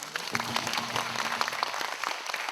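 A short burst of applause from an audience at a pansori performance, dense clapping that holds steady for a couple of seconds, with a faint sustained tone underneath.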